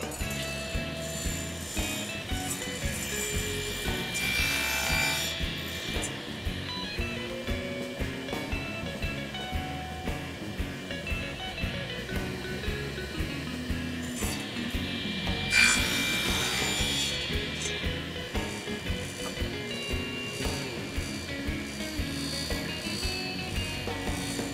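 A table saw with a sled makes repeated cuts through small wood pieces, a steady machine drone under the work. Two sharper cutting passes stand out about ten seconds apart.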